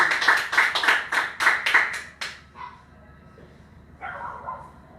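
A church congregation claps in a steady, rhythmic beat of about eight loud claps, then the clapping stops and a few softer, scattered sounds follow in the room.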